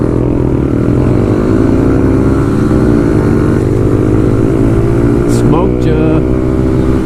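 Two small motorcycles, a Honda Grom and a Kawasaki 125 Pro, race flat out with engines screaming near redline, a steady loud buzzing drone with shifting pitch sweeps and a brief high whine near the end.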